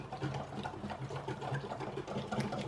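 Brownie batter is whisked by hand in a bowl, giving a quick, steady, rhythmic scraping and sloshing that is close and fairly quiet, with no voices.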